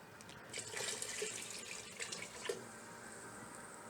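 Water is poured into a pot of lentil soup in a steady splashing stream. The sound is quiet and close, with a few small bumps and gurgles partway through.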